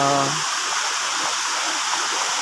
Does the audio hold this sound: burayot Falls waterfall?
yes